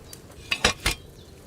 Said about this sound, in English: One handful of sage in the mortar and pedestal. Grind it up.